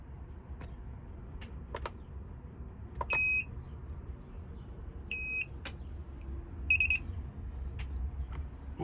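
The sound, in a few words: AK90 BMW key programmer beeping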